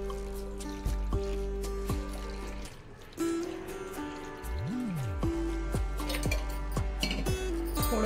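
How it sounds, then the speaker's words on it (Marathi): Cold water trickles and pours into melted butter during homemade ghee preparation, a steady close liquid stream running through most of the clip alongside sustained tonal sounds. "आता यामध्ये आपल्याला थंड पाणी टाकायचं आहे।"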